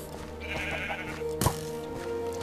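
Sheep bleating in the video game Minecraft, one short bleat rising briefly above a steady bed of game music and background noise.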